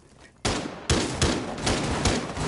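Gunfire from Rainbow Six Siege starts after a quiet moment: five or six loud, sharp shots in an uneven rhythm, each leaving a brief ringing tail.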